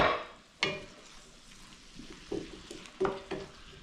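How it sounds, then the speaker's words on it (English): Cabbage frying in a pan and being stirred, with a low sizzle under several sharp scraping stirs that come in short, uneven bursts. "let's stir up this cabbage here a little bit"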